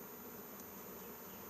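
Honey bees buzz steadily during a hive transfer, a dense, continuous drone of many wings close by with no breaks and no voices.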